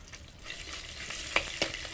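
Onion, peanuts, mustard seeds and chillies fry in hot oil for semiya upma, giving a soft, continuous crackling sizzle close by, with two sharper pops or scrapes near the end.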